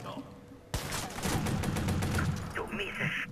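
Video game gunfire in Watch Dogs: a rapid burst of shots starts abruptly and rattles on for about two seconds, followed by quieter game sounds and faint voices.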